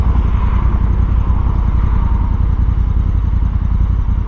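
A Honda Africa Twin DCT motorcycle idles steadily while stopped at a traffic light, its engine giving a close, continuous low throb with an even pulse and no talking.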